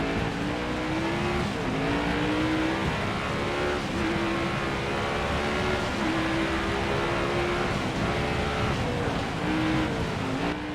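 Steady, loud NASCAR Heat 5 video game racing engine drone with repeated rising revs and shifts, close and continuous for the whole stretch, no voices.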